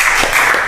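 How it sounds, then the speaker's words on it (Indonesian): An audience breaks into applause, a dense burst of clapping heard briefly and loud, with no other sounds over it. "Nah, tepuk tangan dulu dong."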